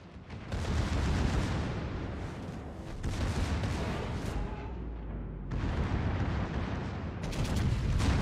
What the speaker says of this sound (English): Secondaries will go in on him now.